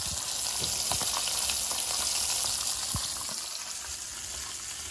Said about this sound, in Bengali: সেই মশলা তেল দিয়ে যে চিকেন ভাজি করছি, মুরগি ভাজি করছি